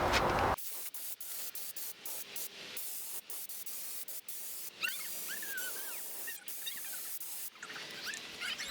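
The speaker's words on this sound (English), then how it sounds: "So now I'll just take the spray gun and we'll touch that up." Spray gun hissing as paint is touched up on the edges of dresser drawers, a steady close airy spray running continuously with brief interruptions and small clicks.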